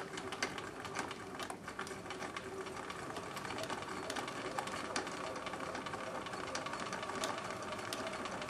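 A sewing machine runs steadily, stitching a wavy decorative line through a fleece blanket about 4 inches from the finished edge; a continuous close, loud mechanical whir with rapid needle ticks and no talking.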